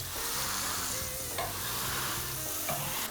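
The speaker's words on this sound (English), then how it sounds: "leave it sit for 1 whole minute approximately until the sizzle subsides" Steady, loud sizzling of vegan bacon frying in a pot, with a few scraping stirs and clinks breaking the hiss.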